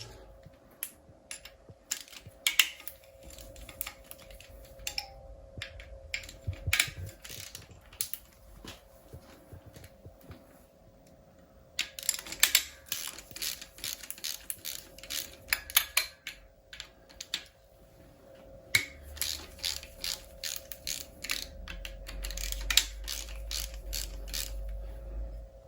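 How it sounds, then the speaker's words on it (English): Ratchet clicking while unbolting the oil filter housing on a 2.7 diesel TD V6 engine, in repeated bursts of rapid close clicks with pauses between, alone in a quiet workshop. "now we can unbolt the oil filter housing"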